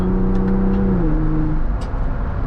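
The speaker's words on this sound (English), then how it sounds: "Some nice turbo booshes and sounds coming in there." The turbocharged EcoBoost engine of a 2024 Ford Bronco Raptor drones steadily while accelerating, its pitch stepping down mid-clip as it shifts, with faint airy turbo whooshes near the start and again toward the end.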